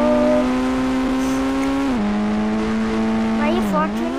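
Engine drone of a Mahindra Thar in the Indian Bike Driving 3D game during a mega ramp challenge, a loud sustained tone that holds, then drops in pitch and climbs again as the car revs and shifts, with no talk over it.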